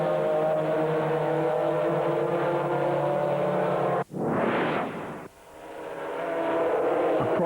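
Lamborghini GT race car engine in the FIA GT 2000 video game, a steady loud droning hum running throughout, briefly broken by a short burst of noisy whoosh midway.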